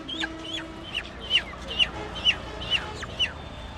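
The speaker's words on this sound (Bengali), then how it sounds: "মুরগি" Chickens cluck in a run of sharp, evenly spaced calls, about eight in under four seconds, close and clear over a quiet background.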